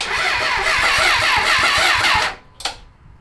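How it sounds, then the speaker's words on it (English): An abandoned Honda 750cc motorcycle engine cranks with a rapid rhythmic chug for about two seconds, then cuts off, followed by a short sputter, heard close and loud with no talking. "We want to just hear this thing turn over and fire up."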